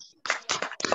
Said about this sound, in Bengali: সামিহার জন্য sound দিয়ে হাততালি দেই